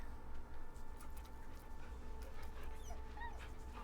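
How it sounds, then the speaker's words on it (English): A dog in the video game Baldur's Gate 3 whimpers and yips softly while being petted, faint over low background game ambience. "I can still touch the dog."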